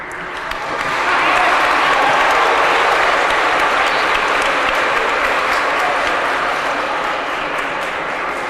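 An audience at a library talk breaks into applause, building within a second into a loud, sustained, even wash of clapping that carries on steadily before slowly easing.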